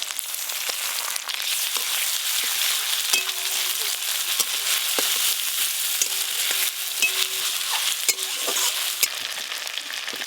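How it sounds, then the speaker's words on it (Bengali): Whole cumin, dried chilies, chopped onion, green chilies and ginger-garlic paste fry in mustard oil for a tangra fish curry, giving a dense, continuous sizzle with faint stirring scrapes throughout. "সব কিছু মশলা একটু হালকা করে ভেজে নিয়েছি"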